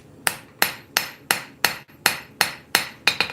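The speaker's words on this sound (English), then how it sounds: "switch to our straight peen" A straight peen hammer draws a taper on hot metal at a forge, striking nine sharp, ringing blows in a steady rhythm, close and loud, with no talk between them.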